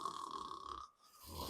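A person imitates snoring with a drawn-out, rasping inhaled snort, paused briefly before another breath starts, faint and close.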